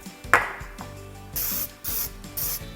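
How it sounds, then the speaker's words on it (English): Baking spray hissing from a can into a bundt cake pan in short bursts, with a metallic clink at the start and several close, distinct sprays coating the pan. "Spray it generously on the sides, the bottom, and that central piece"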